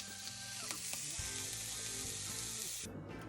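Eggs and Dubliner cheese frying in a pan over medium heat, a constant close sizzle with small scraping and stirring clicks, then the hiss drops off sharply near the end.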